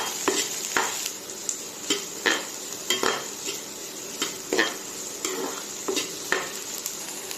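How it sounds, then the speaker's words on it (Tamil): Chopped onion and brinjal sauté together in a pan, with a low steady sizzle beneath repeated scraping strokes of a spoon or spatula, roughly two per second, close and fairly quiet. "வெங்காயம் கத்திரிக்காய் ரெண்டுத்தையும் ஒன்றா போட்டு வதக்க வேண்டியதான்"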